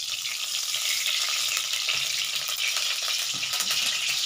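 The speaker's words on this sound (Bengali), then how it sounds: "আর আমি যে সবজিগুলো রেখেছি না কেটে, এগুলো আমি তেলের মধ্যে একটু ভেজে নেব।" Cut vegetables crackle in hot white oil in a heated wok, a dense, steady, loud sizzle with faint scattered pops, heard close and alone for several seconds.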